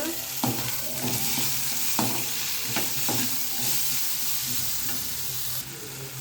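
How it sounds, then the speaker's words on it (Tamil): Tomato and onion sauté in a pan for an egg gravy, a steady close sizzle with repeated scraping stirs of a spoon through the mixture, no voices. "இதையும் சேர்த்து நல்லா வதக்கி எடுத்துக்கோங்க."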